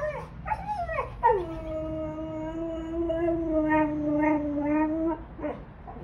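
A husky gives a long, sustained howl lasting several seconds, preceded by a few short yips and followed by brief whines, close and fairly loud with no talk.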